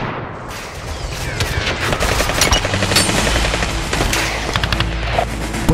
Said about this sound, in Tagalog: putok ng baril